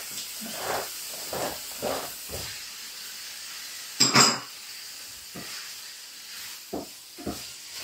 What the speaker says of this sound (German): So, der Bratprozess schreitet voran. Also es ist jetzt alles in der Pfanne, Pilze, Zwiebeln, Knoblauch und Fleisch.